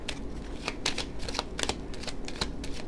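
Tarot cards are shuffled in a steady run of crisp riffling and slapping bursts, close and fairly quiet, with no voices.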